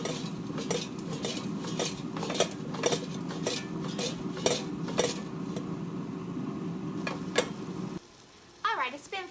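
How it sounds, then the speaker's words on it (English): Fries are shaken in an air fryer basket, giving repeated metallic rattles and clatters over a steady fan hum; the hum cuts out near the end. "I like to take the fries and use an oven mitt and just shake them."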